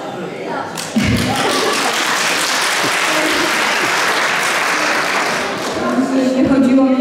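An audience breaks into sustained applause greeting speakers at a Polish event, loud and dense from start to finish, with a sharp onset at the beginning and faint voices under the clapping.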